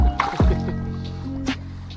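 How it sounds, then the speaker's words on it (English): A freshly caught walleye thrashes in water beside a boat in Colorado, giving a couple of short wet splashes and drips close by, followed by quieter lapping water. "you splash me"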